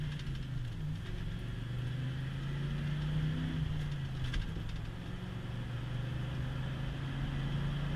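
A car pulls away and runs up through its gears under medium throttle, the engine's low drone rising and dropping in pitch as it shifts, steady and close throughout.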